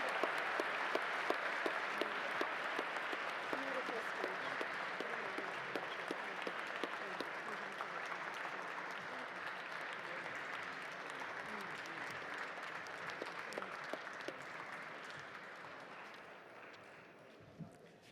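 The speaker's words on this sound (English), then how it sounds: "another round of applause, please, for Gary" Applause after a speech at a gala dinner, a large crowd clapping steadily in a long sustained wave with crisp distinct claps and voices mixed in, gradually tapering off toward the end.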